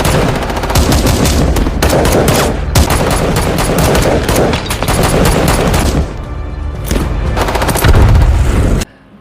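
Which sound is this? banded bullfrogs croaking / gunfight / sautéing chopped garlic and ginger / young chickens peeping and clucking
gunfight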